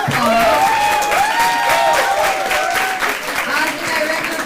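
Loud audience applause with some cheering at a student debate event on animal testing, clapping steady throughout while a speaking voice runs over it.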